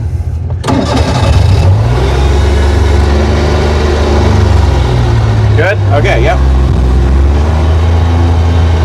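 An abandoned old police car's engine cranks, catches and revs in steady surges, loud and close, with the throttle worked by foot; people speak briefly over the running engine.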